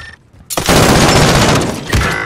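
Sustained burst of automatic gunfire from a weapon in Warzone, loud and close, starting abruptly after a brief quiet lead-in and rattling continuously for nearly two seconds.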